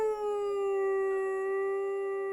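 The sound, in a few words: voice imitating a dog howling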